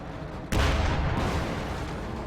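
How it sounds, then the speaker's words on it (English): A Sherman tank sets off a mine in Company of Heroes 2: one sudden, loud, booming explosion that rumbles and fades over the next couple of seconds, with no voices. "Oh no, Sherman detonates that mine there."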